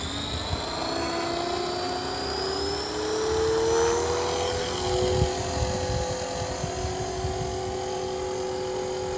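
Walkera V450D03 RC helicopter hovering, a steady high-pitched electric motor and rotor whine with slowly shifting pitch over continuous rotor buzz, fairly loud and close throughout.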